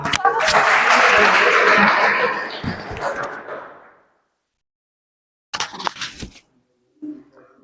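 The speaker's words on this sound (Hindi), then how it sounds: "चलिए ताली के साथ।" Audience applause at a Hindi poetry gathering: a burst of clapping that swells, holds for a couple of seconds and fades, followed by silence, then a few brief knocks and faint noises.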